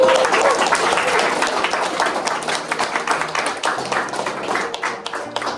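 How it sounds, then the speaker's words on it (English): An audience claps steadily and warmly, a dense wash of applause that holds for several seconds with no talking over it. "Give a round of applause, everybody, for you."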